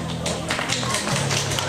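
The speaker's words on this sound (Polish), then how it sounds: "Brawa" An audience at a school singing-contest prize announcement claps for the first-place winner in a brief burst of quick hand claps, with a voice speaking over it.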